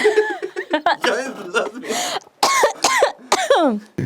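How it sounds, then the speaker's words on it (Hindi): A run of harsh coughs mixed with throaty, voiced bursts that sound like a person coughing and half-laughing, loud and close. "खांसने पे कोई पाबंदी नहीं"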